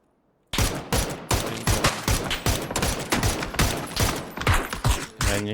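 Rapid bursts of gunfire crackle continuously after a brief quiet start, loud and dense with overlapping shots, sounding like game weapons firing.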